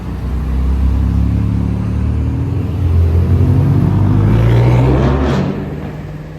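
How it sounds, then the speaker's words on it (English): A BMW M car engine revs up loudly nearby, a rising, rumbling roar that builds over several seconds as the car pulls away and then fades slightly. "that's how an M car has to sound."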